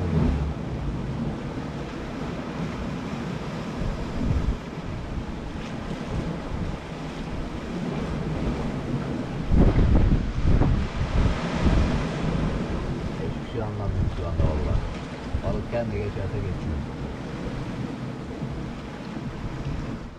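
Steady wind roars across the microphone by the shore, with surf washing underneath and a louder gust swelling near the middle.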